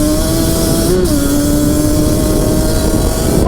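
A Yamaha Banshee two-stroke motorcycle engine on its first ride, a loud continuous high-revving buzz that holds steady, with a brief pitch dip like a gear shift, close and alone.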